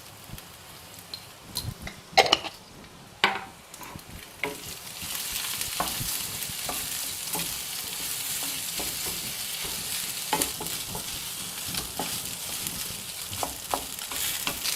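Cooked rice with turmeric and salt fries in a pan for Chitrannam, a steady crackling sizzle broken by scraping stirs and clinks of a spatula, close and with no talking.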